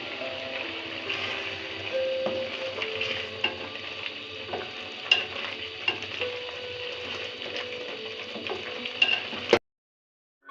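Prawn malai curry stirred with ghee in a pan: a soft, continuous simmering sizzle with intermittent spoon scrapes and small clinks, close and fairly quiet, cutting off abruptly near the end.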